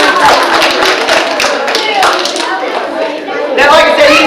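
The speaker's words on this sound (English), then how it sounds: "Everybody have a big round of applause." At an animal show, an audience breaks into a big round of applause, loud, steady clapping with sharp individual claps and children's voices mixed in throughout.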